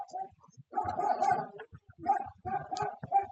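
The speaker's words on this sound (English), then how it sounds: "And there's my dog going at it again." A pet dog barks repeatedly in bursty clusters indoors, fairly close, mixed with a voice calling a tabletop baseball dice game.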